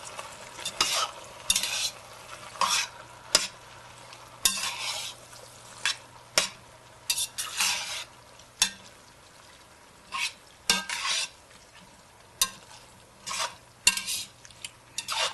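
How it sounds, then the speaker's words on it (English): Diced tomatoes being stirred into a pot of vegetable soup, giving repeated scraping and sloshing strokes with a few clinks against the pot, close and fairly quiet, with no talking. "now I'm going to stir the tomatoes in"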